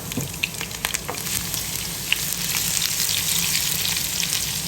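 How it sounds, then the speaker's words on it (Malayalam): Shallots sizzle and sauté in a hot pan until browning, a close, continuous crackling hiss with occasional sharper pops. "നന്നായിട്ടൊരു ബ്രൗൺ കളർ ആവണ വരെ നല്ലോണം വഴക്കണം"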